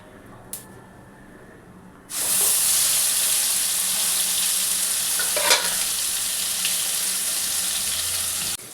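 A paste of poppy seed, coconut and green chili drops into hot oil in a pan, bursting into a loud, sudden sizzle that then holds as a steady close hiss, with a brief clink near the start.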